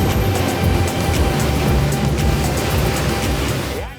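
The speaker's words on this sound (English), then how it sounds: "the hull cuts through the waves very effectively" Italyure 38 motorboat with twin FPT diesels running near 3,000 RPM at about 32 knots, its hull slicing through waves in a loud continuous rush of water and engine drone, with spray hiss and a sharp drop at the end.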